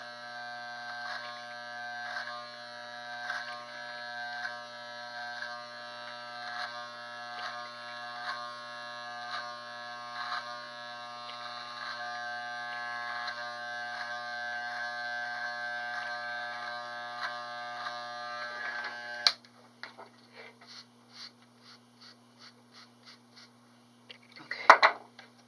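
Electric hair clippers fitted with a quarter-inch guard cutting hair, a steady loud close buzz running for most of the stretch, then cutting off into short intermittent bursts and clicks.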